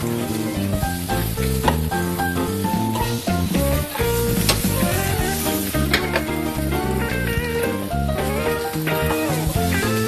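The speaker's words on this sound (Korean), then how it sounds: "아까 손질해 놓은 버섯을 뜨거운 팬에다가 넣어주고요. 들기름 한 스푼," Mushrooms hit a hot pan with a spoonful of perilla oil and fry with a steady sizzle, heard beneath a loud, continuous music bed.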